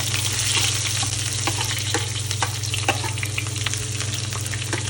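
Chopped onions and cumin frying in hot oil for a kadhi, a dense continuous sizzle with scattered crackles and light spoon clinks, close and loud with a low steady hum underneath.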